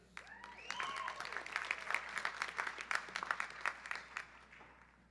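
Audience clapping at a graduation ceremony, a steady crowd of hands with sharp individual claps standing out, fairly faint and distant, fading at the end.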